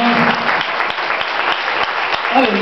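Worshippers in a church keep up sustained applause, a thick, even roar of clapping from the congregation, with faint voices rising briefly beneath it.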